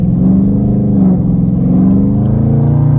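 A tuned Dodge 392 Scat Pack V8 with catless 3-inch mid pipes, a GLT intake and a 93 custom dyno tune idles and revs nearby. The loud, deep, lumpy burble holds steady throughout.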